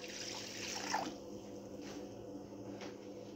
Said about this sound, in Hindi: पहले पानी पावगी 1 गिलास